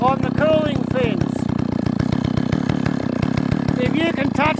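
A chainsaw used for milling runs continuously while warming up, a loud, steady buzzing engine drone with rapid pulsing, while a voice talks over it.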